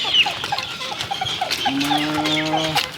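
Young stag roosters, about five months old, kept in a confined pen, cluck and crow with overlapping bird calls and a drawn-out rooster crow in the second half, close and fairly loud.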